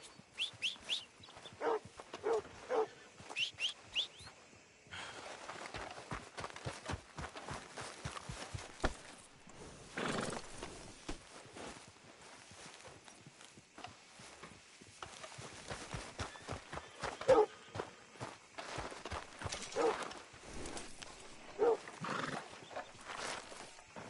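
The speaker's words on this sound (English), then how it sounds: "That horse don't listen." Horse sounds from a PS4 video game: repeated whinnies and neighs with clip-clop hoofbeats, plus scattered barking, over a busy mix of game noise throughout.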